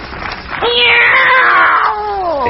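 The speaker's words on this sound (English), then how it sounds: "It's a cat, Miss Brooks." A cat gives a loud, drawn-out meow up close, rising and then bending downward, followed by a shorter second cry.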